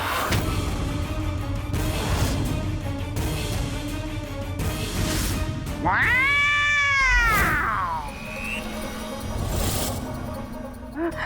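A cat gives one long, loud, wavering meow near the middle, close by and standing out over a dense background of music and noise, with no talking.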